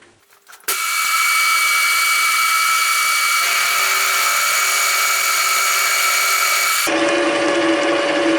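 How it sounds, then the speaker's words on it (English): A Deckel milling machine making a 2 mm deep test cut with a roughing cutter: a loud, steady, bright whine with a grinding edge starts abruptly and holds, shifting tone near the end, with no talk. "I never used a roughing cutter before. Let's give this thing a go. First test cut, 2 mm depth of cut."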